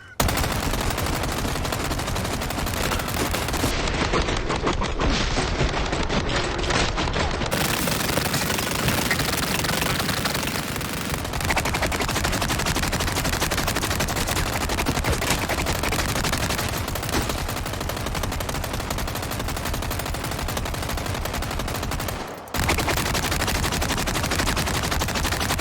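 A DLC weapon in Resident Evil 4 Remake fires with infinite ammo in a continuous, dense roar of rapid shots, loud and sustained throughout with one brief break near the end.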